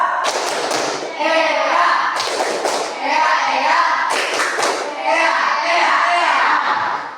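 A classroom of children performs the ice cream clap chant, young voices chanting over repeated hand claps and taps that come in loud rhythmic bursts about every two seconds.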